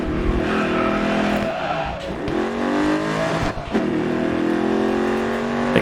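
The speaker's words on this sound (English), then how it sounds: "Like the engine sounds and the tire squeal type shit. Sounds really good in this game." A race car in the Grid Autosport video game revs and accelerates with a rising engine whine, and tires squeal through the corners. Short dips in the engine note sound like gear changes, and the sound is close and continuous.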